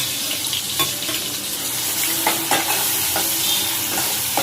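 Onion, garlic and chilli stirred and sautéed in a pan, a continuous close sizzle broken by scraping stirring strokes at irregular intervals.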